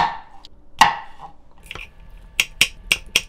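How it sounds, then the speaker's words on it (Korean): A knife slices cucumber lengthwise on a cutting board for a skate sashimi salad, giving a sharp first chop and then a quick series of crisp, close knocks. "이거 오이 오이도 길게 썰어."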